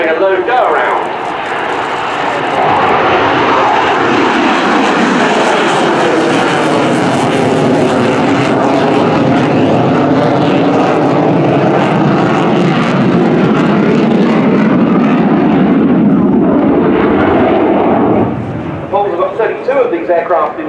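Polish Air Force MiG-29 jet roaring through a low go-around at an air display, a loud continuous engine rumble that swells and sustains before easing off near the end, with commentary talk over it.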